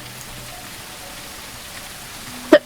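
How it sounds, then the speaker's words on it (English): Rain falls steadily in the video game Ship Graveyard Simulator 2 as a constant, even hiss, broken near the end by a single short knock. "I don't think I've ever noticed rain in the game before."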